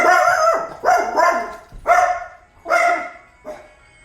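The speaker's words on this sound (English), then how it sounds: "He's barking at the wind." A dog barks several times nearby, loud sharp barks spaced out with short pauses, the last one softer.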